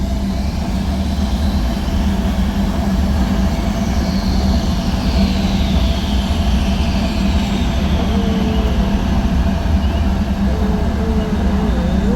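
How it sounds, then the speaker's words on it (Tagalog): Airplane flying low overhead in Bohol, a loud steady rumbling engine roar that stays constant throughout, with a faint whining tone above it. "Aeroplano."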